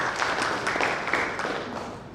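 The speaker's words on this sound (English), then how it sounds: "Clap for her." Audience applause for a speaker at a business event, a brief dense patter of many hands clapping in a room, steady and then tapering slightly toward the end.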